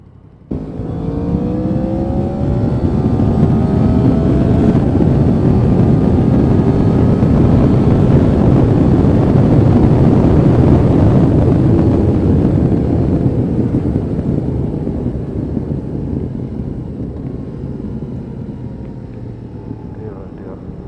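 A loud 2019 Yamaha MT-10 (FZ-10) motorcycle engine drones steadily while riding, revving with rising and falling harmonic tones, wind rushing over the microphone throughout.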